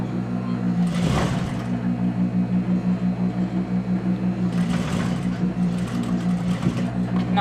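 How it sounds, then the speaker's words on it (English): A sewing machine runs steadily, stitching an in-seam pocket on a garment with a close, even mechanical whir that pulses rhythmically. Brief rustles of fabric being handled break in near the start and toward the end. "I stitch about 1/8 of an inch inside of the seams of the pocket"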